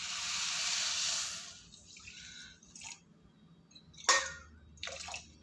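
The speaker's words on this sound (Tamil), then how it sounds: "இதுலேயே நம்ம ஒரு 3/4 டம்ளர் தண்ணி விட்டுக்கலாம்." Water poured from a tumbler into sugar while making homemade rose milk essence, a steady close pour in the first seconds, followed by quieter clinks and handling sounds.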